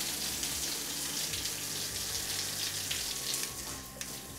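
A shower head in a freshly renovated bathroom sprays on its light massage setting, giving a continuous, fairly loud rushing hiss of water with no break.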